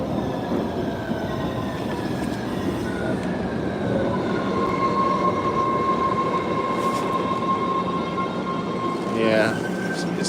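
A train rumbles steadily into a station, a continuous low roar with a high metallic whine rising toward the end; a voice speaks faintly underneath.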